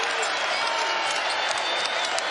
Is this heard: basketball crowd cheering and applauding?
yes